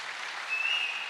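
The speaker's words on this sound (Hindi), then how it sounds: "जोरदार तालियां होनी चाहिए।" Seminar audience applause, a dense even wash of many hands clapping at moderate distance, brief and steady without voices.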